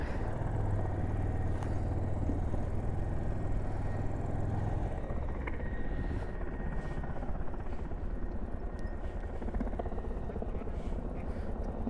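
A helicopter at Mana village near Badrinath keeps up a steady loud rotor drone and engine rumble as it takes off, with voices talking faintly underneath.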